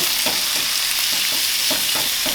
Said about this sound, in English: I'm going to put about a pound of ground beef in my pan.